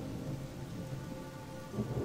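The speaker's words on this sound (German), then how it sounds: "Und jetzt regnet es hier gerade wieder." Steady rain with low rolling thunder from a Gothic 2 game world, a continuous hiss of downpour with a deeper rumble swelling near the end, no voices over it.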